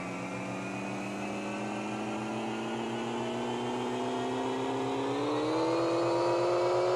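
A K20 engine in the Pixel Car Racer game revs on a dyno, its synthesized tone climbing steadily and smoothly in pitch over several seconds, loud and continuous with no talking.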